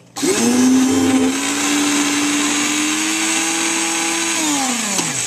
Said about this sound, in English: let's listen to that sound of the stick blender one more time